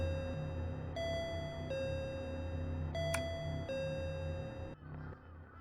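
In the horror game Akai Onna, a doorbell is pressed again and again, its electronic ding-dong chimes repeating in steady succession over a low ambient hum, with a sharp click midway and no talk.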